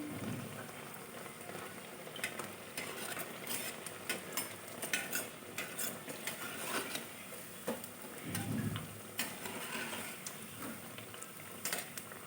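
Green pea snack fries in a wok, a soft continuous sizzle with faint stirring scrapes and occasional louder bubbling bursts, close and quiet with no talk.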